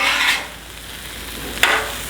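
Shrimp fried rice stirred in a hot pan, two brief scraping, sizzling strokes of the spatula about a second and a half apart over a low background hiss.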